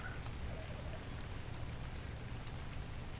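Steady rainfall in ARK: Survival Evolved, a dense, even hiss of drops pattering on surfaces with no breaks, heard alone and close.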